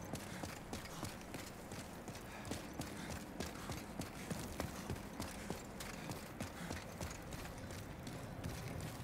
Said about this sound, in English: Sometimes I just like to listen to the footsteps.